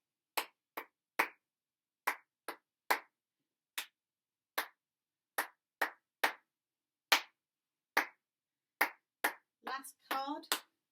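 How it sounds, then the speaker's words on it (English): Crisp solo handclaps beating out a rhythm of walk and jog patterns during a ukulele lesson, single and paired claps separated by silence, close and clean, with a brief burst of voice at the very end. "Let's clap the whole thing."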